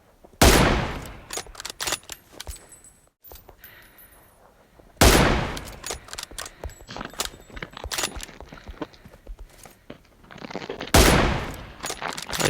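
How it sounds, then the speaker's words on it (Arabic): Gunfire from the video game PUBG on the Erangel map rings out in three sharp bursts of rapid shots, each followed by scattered single cracks and rattling, loud and punchy against quieter gaps. "هاي كم طلقة يلا يتفنش."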